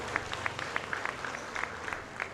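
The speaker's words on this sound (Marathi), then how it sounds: "जोरदार टाळ्या होऊन जाऊ देत." An audience at a church women's day event applauds. The clapping is scattered and fairly faint, with distinct claps picked out over a soft murmur of the room.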